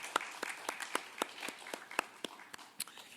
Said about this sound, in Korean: 우리 한번 축하의 박수 드리겠습니다